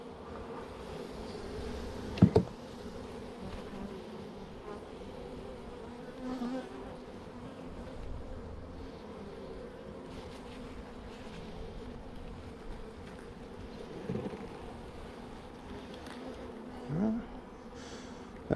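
Honeybee swarm droning as it is moved from a swarm trap to a hive, a low continuous buzz with occasional louder passes of individual bees close by, plus faint handling knocks.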